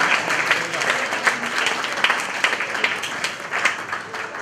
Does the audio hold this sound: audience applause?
yes